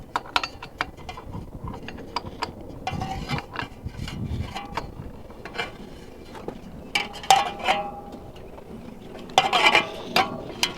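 A 1953 GMC pickup engine is turned over by hand with a ratchet, giving intermittent metallic clicks and clanks of the tool and mechanism, close by and irregular, with quiet pauses between bursts.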